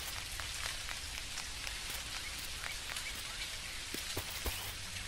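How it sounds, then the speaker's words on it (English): Rain falling in the farming video game Dinkum, a soft steady patter of drops on surfaces, faint and continuous with occasional louder splashes. "Lucky, since it is raining today,"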